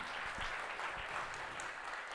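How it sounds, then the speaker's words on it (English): Audience applause fills a hall at a live partner meet in Bengaluru, a steady, dense wash of many hands clapping at moderate level, with a few louder low thumps scattered through it. "let's give a thunderous round of applause for ourselves"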